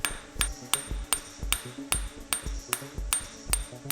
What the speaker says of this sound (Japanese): 溶かしてインゴットができたら金槌で叩いて地金を締めて伸ばしていきます